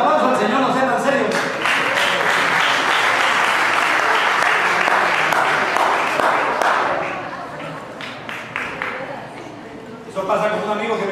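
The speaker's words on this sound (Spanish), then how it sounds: "denle un aplauso al Señor" A church congregation breaks into loud, dense applause that holds steady for several seconds, then fades a little, and voices and shouts mix in as it tapers before a final swell.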